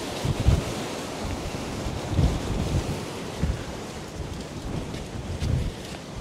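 Strong sea waves surge and crash in repeated swells while a hard wind roars across the microphone at sea, loud and continuous with no voices.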